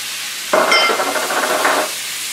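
Shrimp seasoned with Old Bay, paprika and pepper hitting a hot pan, a sudden loud sizzle that holds steady for over a second and then eases, close and without talk.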